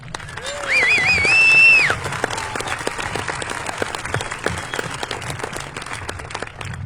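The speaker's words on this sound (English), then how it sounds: "So can we give them a huge round of applause?" A crowd at a high school graduation ceremony claps steadily, a dense patter of applause swelling briefly at the start with a few whoops, then continuing evenly.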